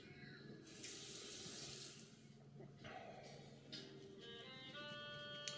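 A bathroom tap runs as water is splashed onto a face before a wet shave, giving a steady close stream broken by louder splashy bursts and gurgles.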